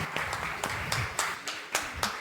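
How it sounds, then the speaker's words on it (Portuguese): Audience clapping in a rhythmic, evenly spaced beat, roughly four claps a second over a constant background murmur, steady and moderately loud throughout. "Então, aplausos"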